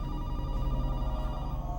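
Telephone ringing in the 1997 horror film Scream 2, a steady bell-like tone held through the whole stretch over a dense low background of film soundtrack.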